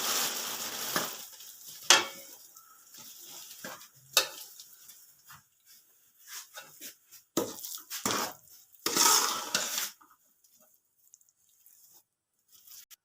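Rice ladoo mixture gets stirred in a pan with the gas turned off: a spoon scrapes and thumps against the metal in irregular bursts, some loud and some soft, with quiet gaps between them.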